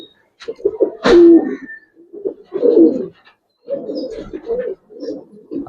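Pigeons coo in a loft of collected Giribaz and colored breeds, a run of close, throaty rolling calls that come in bursts across several seconds, with one sharper flutter or call near the start.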